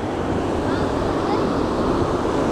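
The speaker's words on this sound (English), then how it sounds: "These waves are big out here." Big ocean waves break on a beach in a constant roaring wash, with wind buffeting the microphone throughout.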